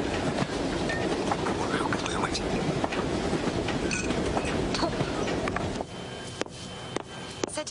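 A freight train on a Russian railway rumbles past with a continuous loud roar and clacking of wagons on the rails. The rumble eases slightly near the end.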